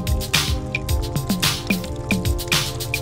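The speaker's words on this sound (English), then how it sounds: "So here I'm filling up the uh, freshwater tank for the first time this season using a uh, flow meter" Water filling an RV freshwater tank through a flow meter, with rhythmic gurgling glugs and drips repeating every half second or so, loud and close over a constant rushing flow.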